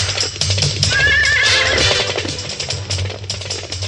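An animated-series horse whinnies once, loud and close, in a rising and falling neigh over a low rumbling background, with faint hoof sounds.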